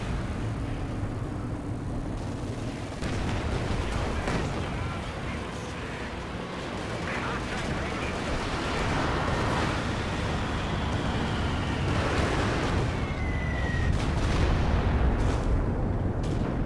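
Large explosions and artillery blasts in the World War II strategy game Company of Heroes 2, a dense continuous battle rumble with repeated booms and bursts over about seventeen seconds, steady and loud throughout.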